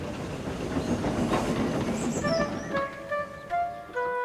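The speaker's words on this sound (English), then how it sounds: "the diesel left with his empty coaches" Diesel locomotive pulling away with empty coaches in an animated railway story, a rumbling rolling clatter that gives way to whistle-like tones toward the end, moderately loud, no speech.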